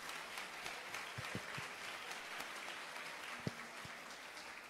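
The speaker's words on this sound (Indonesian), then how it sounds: "Tepuk tangan untuk beliau." Applause from a crowd, steady and fairly faint, with scattered individual claps standing out, no voices over it.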